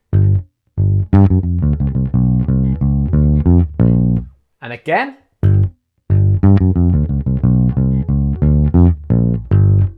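Electric bass guitar plays an everyday blues fill packed with chromatic notes, mixing major and minor lines in two loud phrases around a brief burst of effect noise, with a few words spoken between them.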